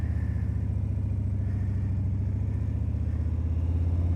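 Motorcycle engine held at a steady mid-pitched idle-to-rev drone with a throbbing low pulse, running alone and close as the rider brings up the RPMs before letting the clutch out.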